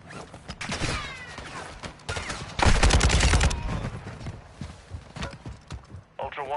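Sustained automatic gunfire from a battle royale shooter rattles in dense bursts, loudest in the middle, with radio-style voice callouts and game effects around it.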